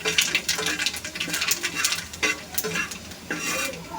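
A dry red chili and whole nigella seeds fry in oil, giving a crackling sizzle broken by repeated scraping stir strokes and light pan clatter, close and fairly steady throughout.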